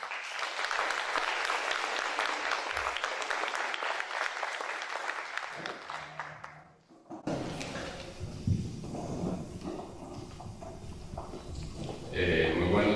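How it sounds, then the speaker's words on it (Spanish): A conference audience applauds steadily and loudly for about seven seconds before a brief lull, after which mixed crowd noise and a voice follow. "Un aplauso para él."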